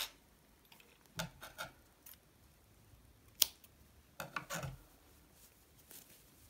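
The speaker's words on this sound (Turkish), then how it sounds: "Bir kez daha sabitliyorum ve fazlalık ipi kesiyorum." Scissors snip excess yarn after a seam is secured on a knitted toddler girl's vest, a few short quiet cuts spread apart with soft handling noises between them and no speech.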